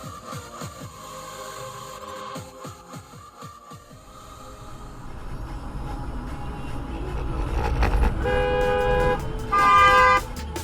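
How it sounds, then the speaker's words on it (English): A car horn honks at a European intersection during dashcam driving, a loud sustained tonal blast rising near the end over steady road and engine noise. "Let's assume that was an apology honk."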